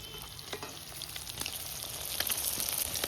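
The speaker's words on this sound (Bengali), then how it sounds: "মাছগুলো খুব লাল লাল করে ভেজে নিতে হবে" Pieces of shol fish frying in hot oil, a continuous soft sizzle with scattered pops and crackles, slowly building in intensity, no talking.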